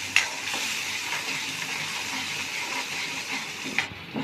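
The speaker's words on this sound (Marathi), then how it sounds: "तर मसाला चांगला आपला फ्राय झाला आहे तेलामध्ये" Ground spice masala frying in oil for a soybean curry, heard as a continuous crackling sizzle with a few spoon knocks and stirs at the start and near the end.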